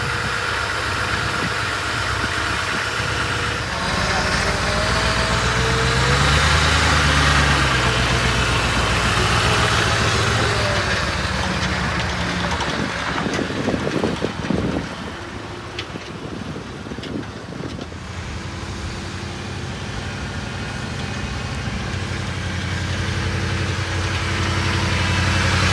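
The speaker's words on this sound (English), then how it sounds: "Let's drive the Humvee." A military Humvee idles and then drives off-road, its loud, steady low engine rumble mixed with heavy wind buffeting and rattles, easing to a quieter hum near the end.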